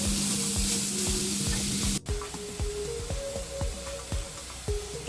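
A ground spice paste of onion, garlic, tomato and chilli sizzles loudly in a hot pan, a steady close frying hiss broken by a brief jolt as the paste is stirred, with no voices.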